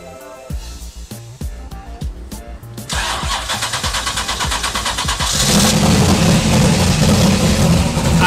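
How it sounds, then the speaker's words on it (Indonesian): A Mitsubishi Triton race truck with an LS V8 cranks in a rapid rhythmic series of clicks and churns, catches with a loud bark, then settles into a loud, lumpy idle that builds toward revving. "kita sekarang coba nyalain mobilnya ya."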